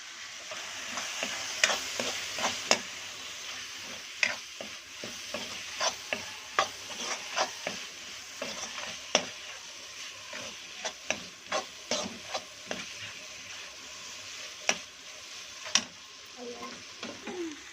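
Tomatoes and garam masala with turmeric being stirred in hot oil for chicken sukka, a steady soft sizzle with repeated scraping clicks of the spoon against the pan, close up with a little faint talk.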